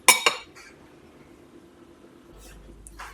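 A metal spoon clinks twice sharply against a dish while spreading on bread, then scrapes softly, with faint movement and another light clink near the end.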